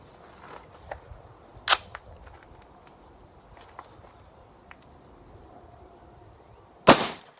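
A Remington 81 rifle fires two sharp, loud shots several seconds apart, with quieter handling clicks and taps in between and no talk.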